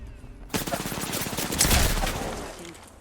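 Rapid automatic gunfire in a video game bursts out suddenly and continues as a dense, loud fusillade for a few seconds before tapering slightly.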